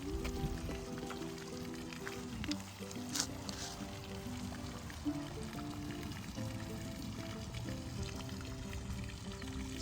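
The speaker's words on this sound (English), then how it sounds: "just listen to the trickle of the water" Water trickles at a farm pond, a continuous soft pouring babble at moderate level with no one talking.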